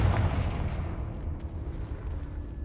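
A Confringo blasting spell in Hogwarts Legacy erupts as a deep, sustained rumbling roar that fills the whole stretch without a clear single onset, alone with no talk.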